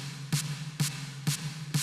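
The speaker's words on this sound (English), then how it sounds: "I'm using Function Loop's snare number 10." A Function Loops snare sample triggered in Phalanx by short MIDI notes, heard as four evenly spaced, clipped snare hits over a low steady hum, close and fairly quiet.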